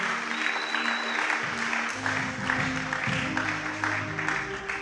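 Applause and cheering for the Lord fill a church hall during an Easter seminar, a steady dense wash of clapping and voices that keeps going throughout.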